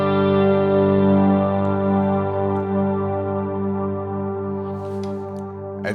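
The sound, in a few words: ambient guitar drone with heavy delay and reverb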